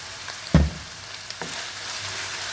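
Spiced meat filling for sanbusa, seasoned with black pepper, baharat spice mix and salt, is stirred in a pan: a soft, steady sizzle with a sharp spoon knock early on and lighter scrapes after, quiet and without talk.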